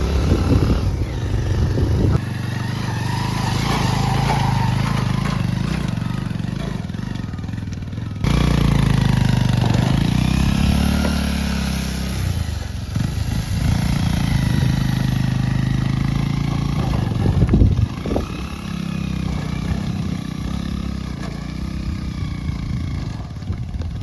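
Motorcycle engine revving and labouring along a dangerous road, loud and continuous with throttle changes and a brief drop near eight seconds, no talk.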